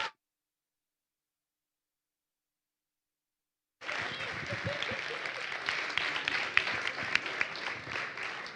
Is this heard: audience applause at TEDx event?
yes